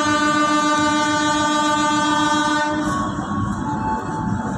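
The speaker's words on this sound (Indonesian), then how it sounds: "kereta api Pasundan New Generation kembali diberangkatkan dari jalur 2 stasiun Tasikmalaya" A Pasundan New Generation train sounds a long, loud, steady horn at Tasikmalaya station, a rich multi-tone blast that holds for nearly three seconds before cutting off, leaving the rumble of the engine and rail noise close by.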